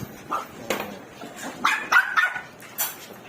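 Two-day-old Chihuahua puppies giving tiny, high yips and whimpers, several short squeaky cries in an uneven sequence, close and fairly quiet, with no talking.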